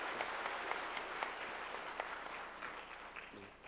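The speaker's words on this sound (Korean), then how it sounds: "우리 뜨거운 박수로 환영하겠습니다" Warm applause from a church congregation during a Sunday morning service, a continuous, fairly distant patter of many hands that holds steady throughout.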